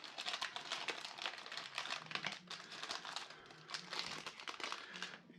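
Sealed plastic packaging for aftermarket knife scales being torn open, giving dense, continuous crinkling and rustling close by, quiet overall with no voices.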